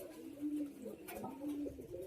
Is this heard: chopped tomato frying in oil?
no